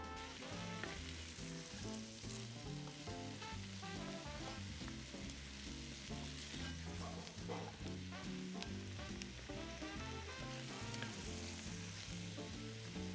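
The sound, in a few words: onions, celery and shallots sizzling in a pan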